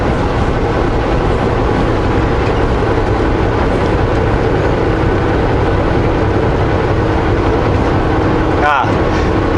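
A freight train with graffiti-covered cars runs alongside a moving vehicle on a highway, its steady rumble and rolling clatter continuous and loud beneath road noise, with people talking over it.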